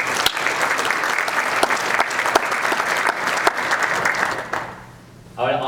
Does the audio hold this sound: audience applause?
yes